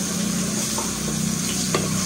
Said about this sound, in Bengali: লবণ আর হলুদ দিয়ে দিলাম, দিয়ে আলুগুলো একটু ভেজে নেবো, ভালো করে একটু লাল লাল করেই ভাজবো